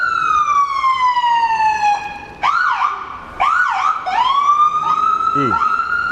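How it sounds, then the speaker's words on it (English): A loud ambulance siren wails nearby, then switches to rapid yelping bursts before settling back into a rising and falling wail. "There you go. That's the ambulance."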